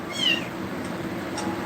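A kitten gives one loud, rising and falling meow nearby, followed by a fainter short cry against a steady indoor hum.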